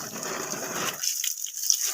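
Water pours and splashes steadily onto a young banana plant for about a second, then gives way to softer trickling and dripping.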